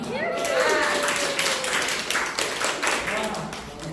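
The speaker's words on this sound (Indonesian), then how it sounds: "Ya, beri tepukan." Students in an Indonesian junior high school leadership session clap together in a burst of dense, rapid applause that lasts a few seconds, with voices calling out over it.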